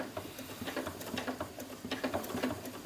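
A sewing machine stitches a dress seam in rapid, quiet, patter-like bursts, the light mechanical ticking running continuously and softly at close range.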